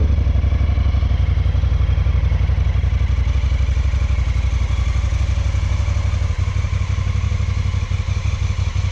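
Honda Africa Twin motorcycle engine running steadily at close range, a loud continuous low rumble with mechanical clatter, a slight change in tone after about six seconds.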